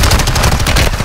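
Rapid automatic gunfire in a multiplayer battle royale shooter game, a loud, dense burst of close shots with no pauses and no voices over it.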